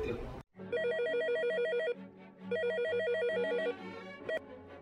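An electronic telephone ringtone plays in two long trilling bursts separated by a short pause, loud and close, after a brief voice at the very start.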